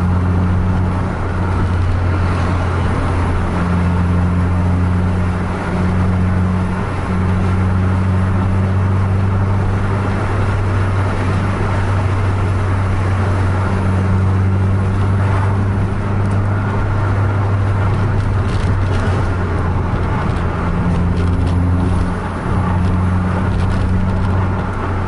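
A bus engine roars steadily at full throttle during a road race between buses on a two-lane highway in Aceh Tamiang, Indonesia, with a continuous droning hum and road noise throughout and no talking.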